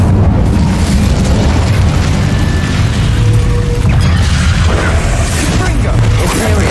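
In Hogwarts Legacy, the Incendio fire spell is cast with a loud, dense roaring burst and rumbling booms that fill the whole stretch without pause, and speech is mixed in.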